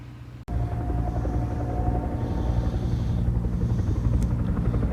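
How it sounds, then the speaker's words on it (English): A firefighting helicopter flies over Lake Edison, its loud, throbbing rotor chop and engine whine filling the air close by. The noise holds steady after an abrupt start, with nobody speaking. "I can see the helicopter. He just picked up water right here at the Lake Edison"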